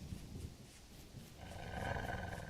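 A low wolf growl from the wilderness of the Vintage Story survival game, a faint rumbling snarl that swells in the second half amid quiet ambient forest sound.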